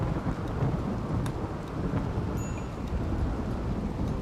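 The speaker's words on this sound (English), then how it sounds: "It's a rainy thunderstorm." Rain and thunderstorm in the RimWorld video game, steady dense rainfall with a low rolling thunder rumble throughout, continuous and fairly loud with no talking.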